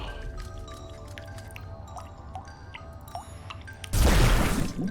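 Water scooped into an empty jar in the video game Wytchwood: soft, small liquid drips and squishes over a quiet game backdrop, ending in a sudden louder wash of watery noise.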